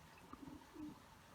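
A loose racing pigeon coos softly in a loft during a heatwave, giving a short, low, throaty call or two, faint and close, over a steady background hum.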